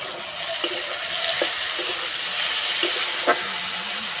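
Cauliflower cooking in a pan for fulkopi pickle, a steady close sizzle and steam hiss with a few light utensil knocks, no speech.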